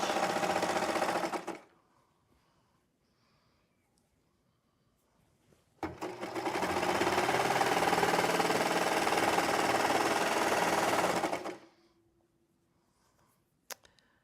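A serger overlock machine finishes the edge of a ruffle skirt with two loud, fast, continuous whirring runs, a short one and then a longer one of about six seconds, separated by near silence.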